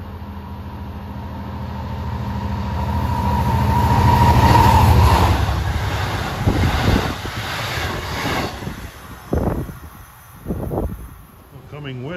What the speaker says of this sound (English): is train 608. En route from Jamaica to Port Jefferson.